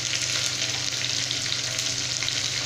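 Drumstick, potato, carrot and chopped tomato sauté in a hot pan, giving a steady close sizzle that runs unbroken and fairly quiet throughout.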